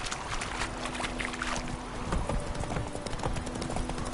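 Hooves of Geralt's horse clip-clop in The Witcher 3: Wild Hunt, a steady, close, continuous trot running throughout over ambient game background, with no talking.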